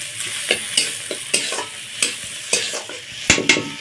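Chopped chilli, garlic and ginger fry in hot oil while a spatula stirs and scrapes the pan in repeated sharp strokes over a soft, continuous sizzle, with no one talking.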